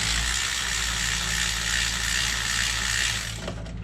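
A ratchet loosens a 10mm bolt on an AC line bracket of a 2016 Jeep Cherokee, giving a steady, close, continuous clicking whir that stops abruptly near the end, with no talk.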